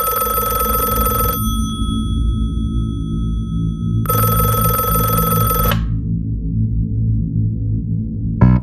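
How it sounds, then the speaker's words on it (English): A telephone rings in two long bursts of electronic bell tones separated by a pause, loud and close over a low background hum, with no speech. "It's the phone again"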